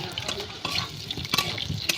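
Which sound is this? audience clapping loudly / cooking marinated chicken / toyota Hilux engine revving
cooking marinated chicken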